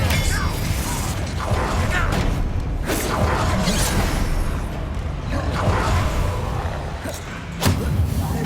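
Hogwarts Legacy combat with the Confringo fire spell: a dense barrage of whooshes, blasts and thudding impacts in close succession, loud and continuous, with a voice calling out spells.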